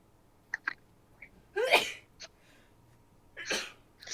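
A sharp sneeze bursts out after a few small sniffs and breaths, followed moments later by a second sneeze, fairly close and alone.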